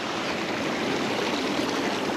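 A creek at McKinney Falls State Park in Austin, Texas rushes and babbles in a steady, close wash of flowing water, uninterrupted and without voices.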